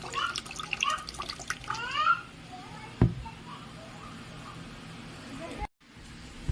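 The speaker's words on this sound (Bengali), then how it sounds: "একদম হালকা করে আমি চালটা ধুয়ে নিলাম।" Gobindobhog rice is swished and rinsed in water in a bowl, giving soft splashes and trickling drips with a clunk near the middle, while someone talks over it.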